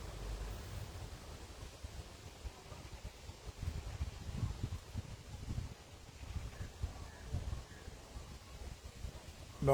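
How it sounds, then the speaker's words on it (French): Strong, violent wind roars and buffets the microphone in a steady low rumble with gusts swelling and easing over about ten seconds, with no talking. "Le vent commence à être extrêmement violent."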